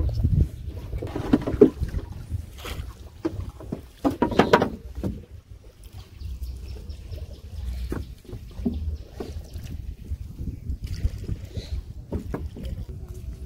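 A small wooden country boat moving on a village river, with soft water sloshing and knocking against the hull, close by under wind and occasional voices.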